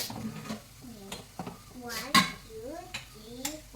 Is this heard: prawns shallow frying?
yes